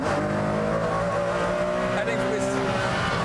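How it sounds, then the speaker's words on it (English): A Ferrari Enzo powers out of a track corner with a loud, steady engine roar that climbs gradually, close and continuous with no pauses. "But now the car leaps out of that corner."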